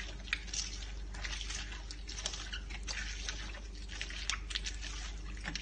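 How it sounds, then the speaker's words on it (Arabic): Clean water from a cooler pours into a tamarind drink over ice, a steady close splashing and trickling with small drips, continuous and alone. "وبتضيفي له مية من الكولر نظيفة"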